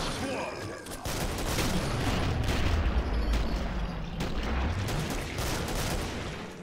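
Gunfire in the co-op shooter Killing Floor, a dense, continuous wash of overlapping shots and game noise, loud and unbroken throughout, with voices talking over it.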